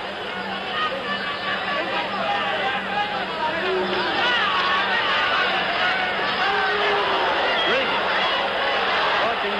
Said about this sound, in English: And the crowd booing.